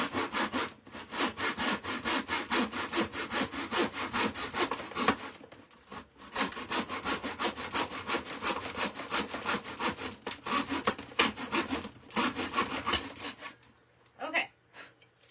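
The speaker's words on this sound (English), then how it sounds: "This is just a cheap miter box and saw I got from Amazon" A cheap hand saw cuts through material in a miter box with steady back-and-forth rasping strokes, close and fairly loud, pausing briefly twice before a final few strokes.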